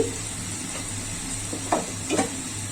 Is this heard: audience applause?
no